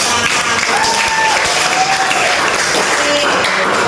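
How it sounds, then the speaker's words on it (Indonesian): Schoolchildren applaud in a classroom at the end of a lesson, a dense continuous wash of clapping that stays loud and even throughout, with faint voices mixed underneath. "Tepuk tangan untuk kalian semua."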